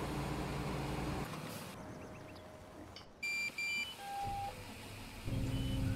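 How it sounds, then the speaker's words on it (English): A truck's reversing alarm on a farm sounds as a few short, high electronic beeps during a dump, standing out briefly over a steady engine and machinery rumble. "Oh, I hate that backup alarm."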